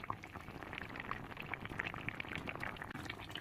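Taro leaves boil in a covered pot, giving a continuous quiet bubbling with small pops and gurgles that stay close and steady, with no voices.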